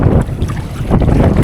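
Strong wind roars continuously over open water during kayak fishing, buffeting the microphone with a loud, steady rush.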